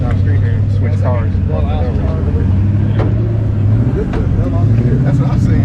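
A turbocharged six-cylinder car engine drones steadily up close at a car show, its low hum shifting pitch slightly, while people talk excitedly over it.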